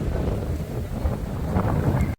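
Strong monsoon-season wind in Rajkot buffets the microphone in a continuous low roar, then cuts out abruptly just before the end.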